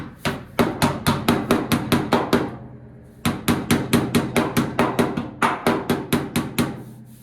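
A hammer strikes a custom cowl hood on a 1983 Chevy G20 in rapid, loud metallic blows, three bursts of about eight to nine hits each with short pauses between, close to the listener and with no talk.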